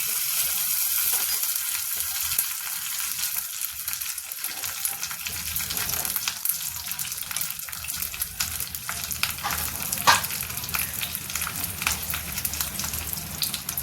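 Mustard seeds sizzle in hot oil for a kadhi tempering: a continuous, dense frying hiss with fine crackling pops, close and loud throughout, no voices.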